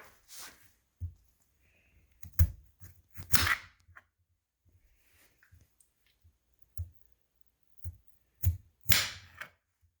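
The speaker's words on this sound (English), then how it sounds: "we can cut the potato up" A knife cuts a potato tuber into pieces with sharp, crisp clicks and thuds, a few isolated cuts spaced irregularly across a quiet background, close and distinct, with no speech.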